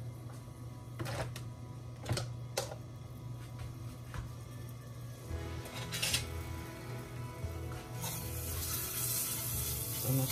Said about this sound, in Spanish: Ponemos lo que es un poco de ajo molido a sofreír.